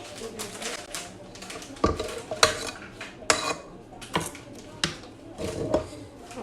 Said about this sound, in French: je vais mélanger le gombo à ma sauce tomate